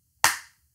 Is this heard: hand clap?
yes